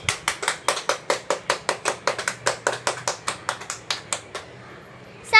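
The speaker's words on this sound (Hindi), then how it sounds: "सब लोग तालियां बजा रहे होते हैं" Brisk, evenly spaced hand claps ring out close by, around twenty in a row in a steady rhythm, then stop, leaving near silence before a short final burst.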